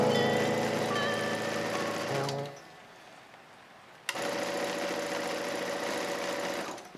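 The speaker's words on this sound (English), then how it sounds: "we're going to start sewing" A sewing machine stitches the shoulder and side seams of a hoodie, a rapid steady motor hum that stops briefly and then restarts, close and loud with no talk.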